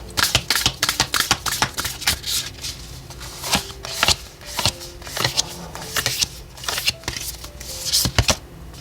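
Oracle cards are shuffled by hand in a rapid, irregular run of crisp riffling flicks and slaps, loud and close, continuing for about nine seconds with no talk over them.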